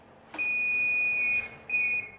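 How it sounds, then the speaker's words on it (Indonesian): A buzzer on a 10 kW solar inverter system sounds to signal a grid power outage. It gives a steady, fairly loud electronic tone that holds for about a second, breaks briefly, then sounds again with no speech over it. "Nah, buzzer hidup ya, jadi mengindikasi ke kita atau memberitahu kita berhematlah karena posisi PLN sedang padam."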